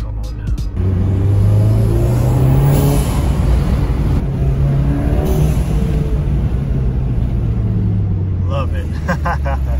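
A car engine pulls out of eco mode, a loud, steady rumbling drone that holds strong throughout as the vehicle accelerates, close and continuous with a slight rise in pitch.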